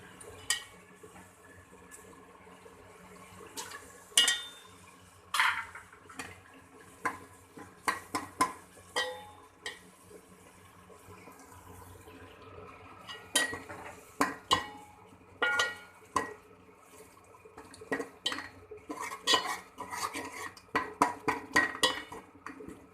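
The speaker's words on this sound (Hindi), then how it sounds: "अब हम कीमे को अच्छी तरह भूनेंगे।" Minced meat being stirred and fried in oil in a pan for aloo keema, with repeated sharp scrapes and clanks of a utensil against the pan over a low sizzle, in irregular bursts throughout.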